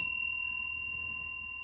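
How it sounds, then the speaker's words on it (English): A bell struck once with a mallet gives a clear, pure ringing tone with several bright overtones that sustains and slowly fades, alone and up close. "I'm going to go ahead and ring the bell for additional good juju here in 3, 2, 1."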